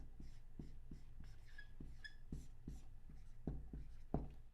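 A pen writes by hand on paper, giving close, faint scratchy strokes and taps in an irregular rhythm in a quiet room.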